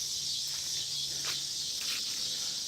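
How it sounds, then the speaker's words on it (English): Steady, loud drone of cicadas at dusk on a farm, with faint chirps of tree frogs or night birds rising briefly over the constant insect buzz. "I hear cicadas, tree frogs, night birds, or something."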